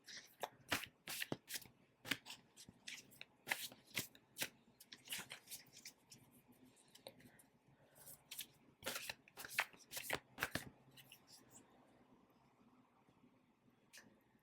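A Spirit Animal Oracle card deck being shuffled by hand: repeated crisp riffling bursts and snaps in irregular clusters, close and fairly quiet, with no talking.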